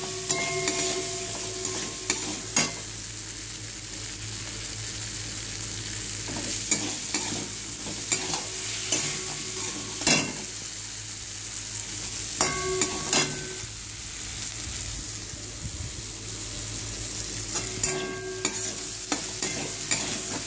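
Potatoes stirred into oily, sizzling masala for a prawn and potato gravy, a steady low fry punctuated by repeated scraping and clinking strokes of a spatula against the pan, close and without voices.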